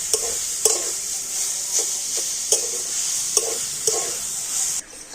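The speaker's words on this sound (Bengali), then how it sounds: "এবার একটু নাড়াচাড়া করে নারকেলের আখের গুড়টা ভালো করে মিশিয়ে নেব" A spoon stirs grated coconut with sugarcane jaggery in a pan over a steady sizzle, with a run of regular scraping strokes and no talk.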